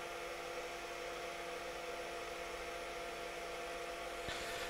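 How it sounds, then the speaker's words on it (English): A hair dryer blows with a loud, steady whooshing roar that holds constant throughout, close up and with no voices, drying painted feathers. "Just gently hold them like this while the hairdryer is drying them"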